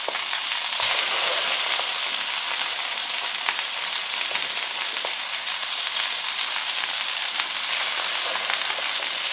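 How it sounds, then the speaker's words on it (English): Lamb brains sautéing in a carbon steel pan beside burgers, a dense continuous sizzle and crackle with scattered pops, steady and close for the whole stretch, no voices. "I'm just going to saute the brains in the pan real quick"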